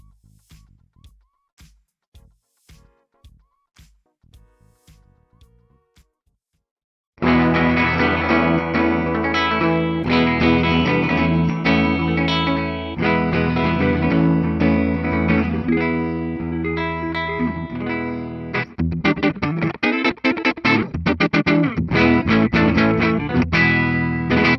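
A 2008 Gibson Les Paul Custom '68 reissue electric guitar with a maple flame body: a few faint, sparse picked notes, then loud continuous strummed and picked playing with a bright, full tone and heavy effects for the rest of the passage.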